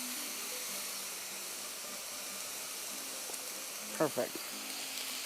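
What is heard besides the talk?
stuffed poblano peppers sizzling in a pan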